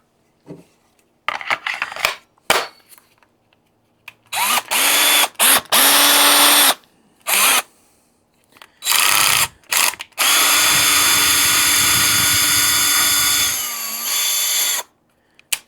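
Craftsman 20V cordless drill running in repeated bursts of whirring, some short and several long sustained runs with a steady motor whine, close and loud, with no talking.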